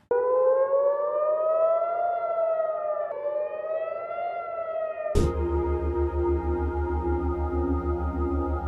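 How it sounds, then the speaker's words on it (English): A loud wailing rocket warning siren in central Israel rises and falls alone, then cuts to a different steady, pulsing alarm tone that continues to the end. "rocket sirens sounded all across central Israel"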